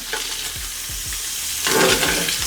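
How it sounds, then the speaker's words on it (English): Sausage sizzles and spits in hot oil in a pan, a steady close frying hiss with stirring scrapes and a louder burst of sizzle near the end. "We're going to go in with our sausage."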